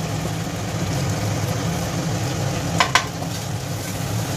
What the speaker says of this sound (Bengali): এইভাবে সমানে লো ফ্লেমে একটু ভালোভাবে এই তেলের মধ্যে এই মশলাটাকে কষিয়ে নেব